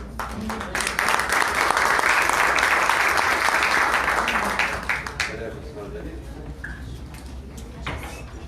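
Sustained audience applause at a women's protection and political participation seminar, a dense crowd clapping loudly for about five seconds before thinning out into scattered claps and room noise.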